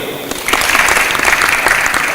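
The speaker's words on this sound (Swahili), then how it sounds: "All the investors wapigiwe makofi." Applause for the investors at an official event in Meru, a crowd clapping steadily and fairly loudly from just after the start, sustained through the clip without a break.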